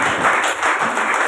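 An audience applauds as Guru Anandaram is welcomed onto a stage, a loud, close burst of many hands clapping with slight swells in intensity.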